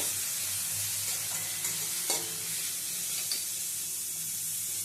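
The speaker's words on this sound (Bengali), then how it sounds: "আদা রসুনের পেস্টটা দিয়েও নেড়ে চেড়ে নেব।" Onion, green chili and ginger-garlic paste frying in a pan and being stirred, a steady close sizzle with faint scraping and a few soft spoon taps.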